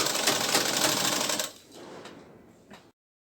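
Sewing machine stitching along the edge of lehenga fabric, a loud dense mechanical whir for about a second and a half, then a softer, slower run before it stops.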